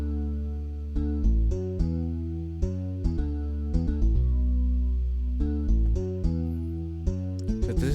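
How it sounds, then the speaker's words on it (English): Two synth bass lines sound together an octave apart, a loud, deep, sustained pattern of rhythmic notes with steady attacks, played alone in a pop song arrangement. "when you combine the two bass lines together,"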